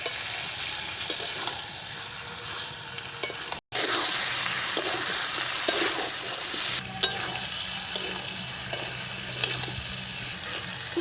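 Potatoes and tomatoes sizzle loudly in a pan with chicken curry as they are stirred and scraped. The frying is steady and close, with one brief break in the middle.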